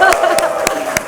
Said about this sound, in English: So how about a nice big round of applause?